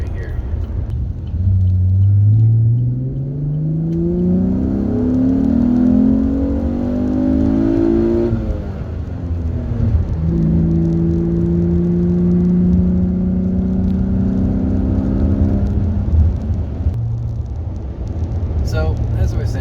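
A 2015 Chevrolet Camaro LT with a V6 engine accelerates onto a highway, its engine note rising steadily in pitch through the gears with a steady low road rumble underneath, heard from inside the car.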